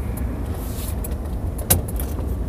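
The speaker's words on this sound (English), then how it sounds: "I'm in traffic" Inside a car crawling through road traffic, a steady low engine and road rumble runs throughout, with one brief sharp click or rattle near the middle.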